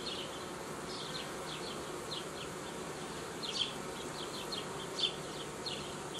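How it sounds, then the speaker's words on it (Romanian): Honeybees buzz at an open hive while a frame is worked, a continuous close hum with individual bees droning past in brief louder swells, no voices over it. "Se trage albinuțile înăuntru."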